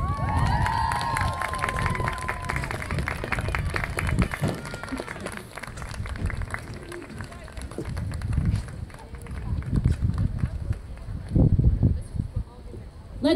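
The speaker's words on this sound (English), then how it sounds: "Let's give all our Shelton and Barlow seniors a big round of applause." A crowd at a high school senior day claps and cheers for the seniors, a steady broadband roar of applause that swells near the end, with voices talking over it.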